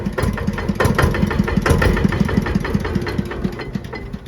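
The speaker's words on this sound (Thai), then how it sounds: "มาลองฟังเสียงกันเลยครับผม เหยียบคันเร่งหน่อยหนึ่งนะครับ" A KRT-140plus multipurpose walking tractor's engine runs loud and close with a steady, rough mechanical chugging as the throttle is pressed, holding a continuous rumble for several seconds with no talking.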